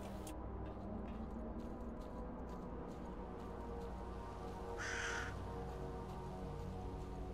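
A single crow caws once, fairly close, over constant hissing ambient wind and noise in the video game S.T.A.L.K.E.R.: Call of Pripyat, with no talking.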